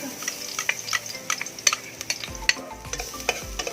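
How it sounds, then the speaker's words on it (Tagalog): Garlic sautéing in hot oil in a pan while a spoon stirs it, giving a soft steady sizzle broken by scraping and tapping strokes. "Sautay lang muna tayo ng garlic."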